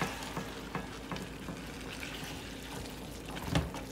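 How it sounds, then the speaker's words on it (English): Tomatoes and onions for bistek sizzle faintly and steadily in a pan. A few soft clicks and a brief clunk break the sizzle near the end. "ya se cocinó el tomate, ya se cocinaron las cebollas, everything's starting to sizzle."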